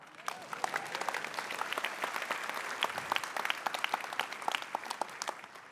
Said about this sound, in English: All right, you can clap for that.